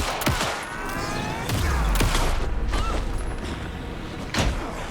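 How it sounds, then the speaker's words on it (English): Gunfire in Alan Wake 2 on PC crackles in scattered bursts, mixed with heavier booms and thuds, fairly close and continuous. "Anderson, pin him down with gunfire for me to get the light on him"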